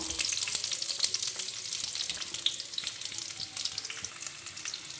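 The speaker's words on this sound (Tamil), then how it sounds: "இது நல்லா வதங்கட்டும்" Chopped onions sizzling and frying in hot oil in a pan for egg noodles, with occasional stirring scrapes and crackles close by.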